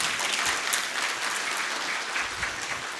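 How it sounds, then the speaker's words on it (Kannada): An audience at a talk by S.N. Murthy bursts into applause, and the dense, continuous clapping holds steady and loud for the whole stretch with no voices over it. "ಜೋರಾದ ಚಪ್ಪಾಳೆ ಬರಲಿ."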